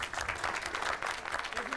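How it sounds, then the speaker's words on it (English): A theatre audience claps warmly for a performer in a steady wash of applause that lasts the whole moment, with a faint voice near the end. "Ladies and gentlemen, a big round of applause for Laura"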